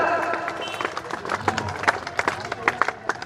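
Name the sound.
crowd clapping to welcome a guest at a rally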